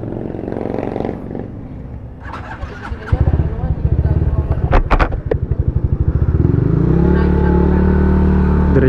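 Motorcycle engine rumbling and revving close by, with rising and falling throttle bursts and clattering, while people talk over it early on.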